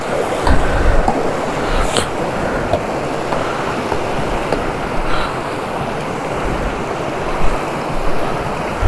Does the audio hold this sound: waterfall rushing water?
yes